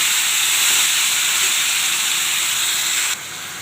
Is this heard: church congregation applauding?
no